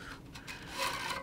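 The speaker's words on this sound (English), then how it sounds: "So I'm going to start actually stringing the second cross here." Tennis racquet cross string being pulled through and weaving against the mains, a close, continuous scraping rub that swells slightly in the last half second.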